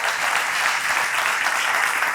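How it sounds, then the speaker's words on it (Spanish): Church congregation applauding together, a dense, steady clapping that fills the space throughout at a loud, even level with no voices over it. "Démosle un aplauso al Señor."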